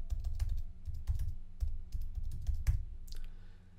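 Someone types on a computer keyboard to rename a Photoshop layer, a close run of quick, uneven key clacks with a brief pause and a final few taps.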